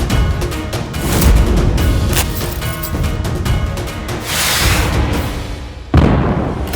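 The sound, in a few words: firecrackers exploding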